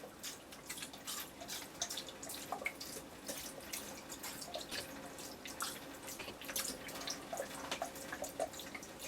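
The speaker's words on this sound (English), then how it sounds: "I'm adding some vinegar into the oxtail." Vinegar being poured into oxtail for Guyanese pepperpot, a steady trickling, dripping pour of liquid close by, continuous for several seconds with small splashes and no talking.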